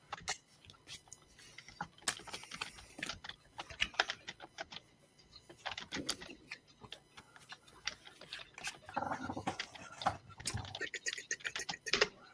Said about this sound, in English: I haven't even finished typing it yet.